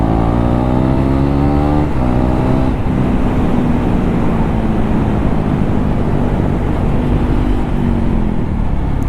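Motorcycles ridden by village boys roar and rev past at close range, a loud continuous engine drone with rising and falling pitch sweeps and no voices.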